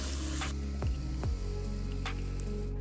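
Blended ground spice paste for lontong sayur fries in hot cooking oil with a loud, steady hissing sizzle, broken by a few sharp utensil clicks and scrapes.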